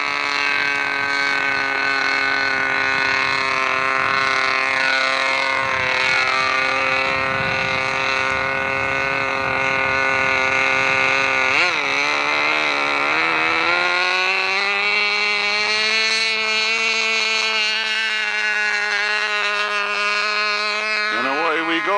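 A KMB 6.5 model aircraft engine with a side exhaust flow-through muffler screams at high revs in a steady, loud, buzzing whine, then dips and bends in pitch partway through. A gold radio-control plane is running under a man's speech.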